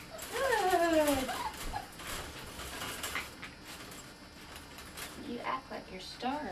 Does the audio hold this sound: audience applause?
no